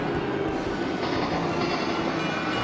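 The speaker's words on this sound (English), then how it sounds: "here comes the train!" A train pulls into a station in the video game Splatoon 3, a continuous rumbling rail roar with clattering wheel noise held at steady loudness and no speech.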